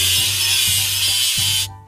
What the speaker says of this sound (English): Let's sand the welding seam.